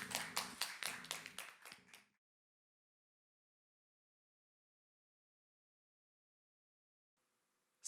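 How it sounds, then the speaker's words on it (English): A small audience at a talent contest gives a short round of clapping that lasts about two seconds, with distinct individual claps, then stops into long silence. "A little round of applause, shall we?"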